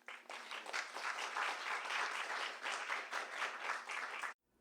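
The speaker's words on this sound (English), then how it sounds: "So can we clap for them?" Audience applause at a bookstore poetry reading at Skylight Books, a steady wash of many hands clapping close by for about four seconds, then stopping abruptly.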